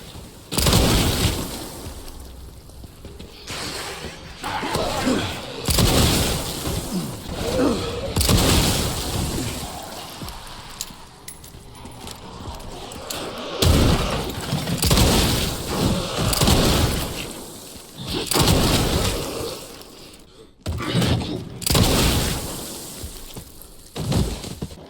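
Leon's revolver fires in the game Resident Evil Requiem as a string of loud, booming shots spaced a few seconds apart, with crashing impacts under ongoing speech.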